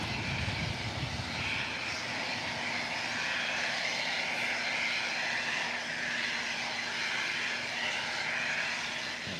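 Boeing 747 on short final approach at LAX, a steady distant engine roar with a faint droning hum, even in level and heard alone.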